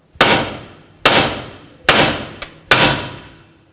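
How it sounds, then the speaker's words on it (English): Four loud, evenly spaced hammer blows ring out on the steering knuckle of a 2009-2015 Toyota Prius to free the outer tie rod, each sharp metallic strike decaying quickly, with a faint small knock between the third and fourth. "Now use your hammer right on the knuckle."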